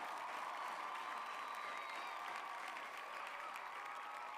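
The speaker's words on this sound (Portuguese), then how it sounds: "Pode dar um aplauso ao Senhor, porque o Senhor é poderoso" A church congregation applauds in praise, a faint, distant wash of steady clapping with a sustained tone running underneath.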